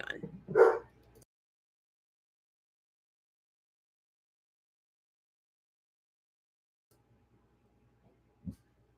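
A pet dog gives a single short bark up close at the start, followed by long silence and a faint thump near the end.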